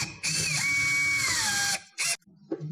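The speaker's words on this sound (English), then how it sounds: "So I'm gonna put a screw, a drill bit, and do the hole first." Power drill boring a hole for a fender flare extension screw, a loud steady whine with a gently falling pitch lasting nearly two seconds, followed by two brief closer bursts as the trigger is squeezed again.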